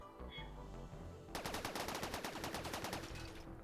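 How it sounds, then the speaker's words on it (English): Auto cannons in Rimworld fire a rapid rhythmic burst of about a dozen evenly spaced shots for roughly two seconds, fairly faint under a low background hum. "Auto cannons can then fire as well."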